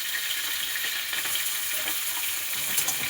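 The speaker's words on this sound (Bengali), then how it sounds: "মাছটা লাল করে উল্টে পাল্টে ভাজতে হবে।" Fish fries in oil in a pan, turned over and over until reddened, giving a continuous close sizzle with scattered crackles and light spatter throughout, no talking.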